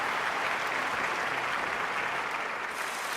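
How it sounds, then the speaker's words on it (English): Crowd applauding in a London 2012 Olympics video game, a dense steady wash of clapping and cheering at moderate level that holds without break throughout. "Crowd like it."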